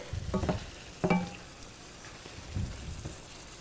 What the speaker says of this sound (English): Just stir this up again.